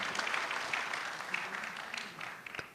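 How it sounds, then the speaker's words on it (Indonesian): A stand-up comedy grand final audience claps together, a busy wash of many hands at moderate loudness that gradually thins out over a couple of seconds, with a few last sharp claps near the end. "Tadi, tepuk tangan."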